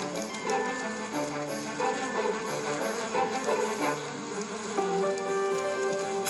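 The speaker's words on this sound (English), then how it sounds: "she climbs on her sisters' backs and vibrates her abdomen" Inside a honey bee hive, a returning forager vibrates her abdomen while climbing over other bees, a steady close buzzing drone layered over the constant hum of the colony.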